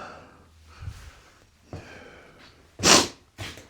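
A single loud, sharp sneeze bursts out in a cold workshop where a race tractor is being wired up, preceded by faint sniffling breaths and a couple of soft bumps, with a brief snort after.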